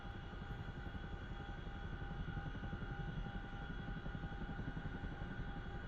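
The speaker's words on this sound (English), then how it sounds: "But that's the Chinook or CH-47." Twin-rotor CH-47 Chinook helicopter in the DCS World flight simulator, a steady, dense rotor and turbine drone with a rapid low blade chop, constant and close, with no voices.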